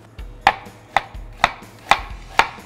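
A knife chops through a large onion on a cutting board in a steady rhythm of six crisp, close thuds, each followed by a short scrape, with no talking.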